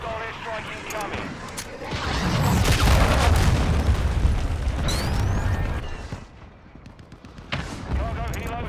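A cruise missile strike in the video game Modern Warfare 2 lands as a long, heavy explosion with rumbling booms and crackling debris, surrounded by scattered gunfire and game voice callouts.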